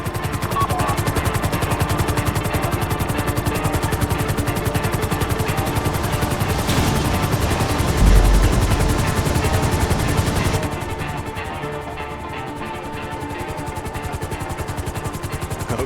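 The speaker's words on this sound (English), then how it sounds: "Bring the chopper down easy." Helicopter flying in GTA V Online, a loud, steady rotor thump and engine drone holding throughout, shifting slightly in tone near the end, with no voices over it.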